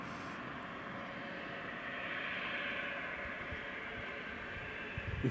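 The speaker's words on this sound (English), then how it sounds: "Right, Ryanair's lining up, runway 14." Ryanair jet lining up on runway 14 at Leeds Bradford Airport, a steady broadband engine roar heard from a distance that swells slightly midway and holds without voices.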